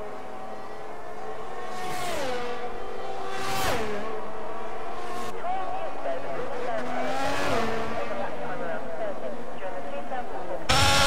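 A Ferrari race car engine in a racing video game, during a league race at the Canada round, holds a steady, high-pitched whine that rises and drops through gear shifts for the whole stretch.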